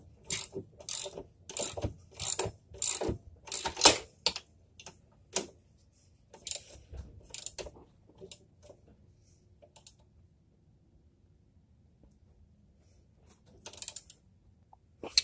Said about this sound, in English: I'm going to use a socket here because that's going to be easier for me